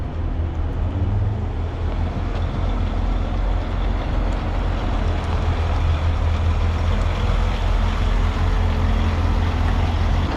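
A heavy truck rig headed to a quarry for a load of stone gives off a loud, continuous deep engine rumble that holds steady throughout, with no talk over it.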